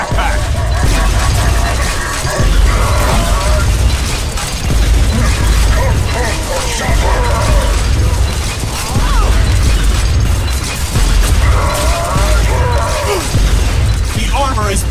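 Steady gunfire from the Bulletstorm game rattles on throughout, aimed at an enemy's backpack weak spot, mixed with mechanical clanks and bursts and loud chatter over it.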